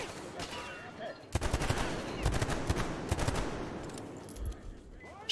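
Gunfire from a weapon in the video game Metro Exodus, rapid bursts of sharp close shots in quick irregular clusters, with brief pauses between them.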